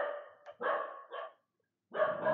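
A dog gives several sharp, fairly close barks in quick bursts, goes quiet briefly, then barks once more, with no talking.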